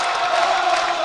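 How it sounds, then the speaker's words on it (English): Spectators at a college basketball conference semifinal, YU Maccabees against Farmingdale State, keep up a loud, sustained wash of cheering and shouting across the arena, a dense, continuous roar with no pauses. "Crowd's really into it."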